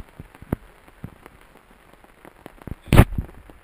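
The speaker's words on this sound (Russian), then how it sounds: "Весь день лил дождь." Sparse raindrops tick and patter on a hard surface, with a louder splashing burst near the end.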